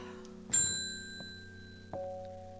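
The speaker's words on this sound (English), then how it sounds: "Let's ring the bell." A bell rung twice in the puzzle game Strange Horticulture gives two bright, ringing chimes about a second and a half apart, each fading slowly over a steady low musical drone.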